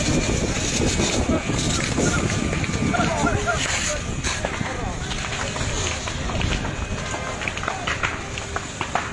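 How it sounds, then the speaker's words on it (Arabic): Strong wind gusting through an Algerian town during a wildfire, a continuous loud roar and buffeting across the whole stretch, with a voice speaking over it. "يا رب خفف علينا الريح يا رب حبس هذا الريح"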